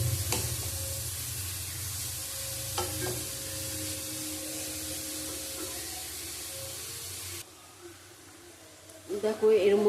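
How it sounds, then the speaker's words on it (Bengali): Grated carrots for carrot halwa fry in a pan with a steady sizzle and stirring scrapes for most of the clip, then the sound drops away and a brief clatter follows near the end; a voice is heard alongside. "গাজরের মধ্যে একটা জল আছে, জলটা যতক্ষণ না শুকাবে আমি ভেজে নেবো।"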